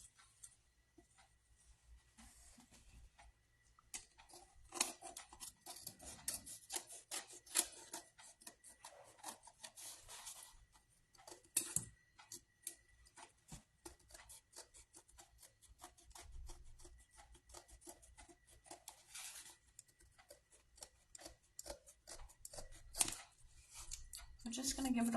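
Scissors snipping and trimming the edges of a scrapbooking paper craft, a quiet, irregular run of close, crisp cutting and rubbing sounds with short pauses between strokes.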